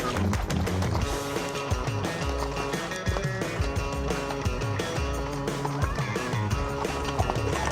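Horses wade through the water of Kaindy Lake in Kazakhstan's mountains, with hooves splashing and clopping in a busy mix of nearby layered sound and no clear speech.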